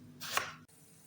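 A single knife stroke cutting eggplant into small pieces on a board, one short, close, quiet chop.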